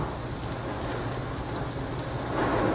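Heavy rain drums steadily on a house roof, a dense, constant wash of drops that swells slightly louder near the end, with no voices.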